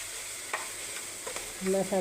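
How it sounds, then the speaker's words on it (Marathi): Masala roasting in hot oil in a pan makes a steady, close sizzle, broken by a few soft scrapes of stirring. "चांगला मसाला तेल सुटेपर्यंत ही मसाला भाजायचा आहे आपल्याला"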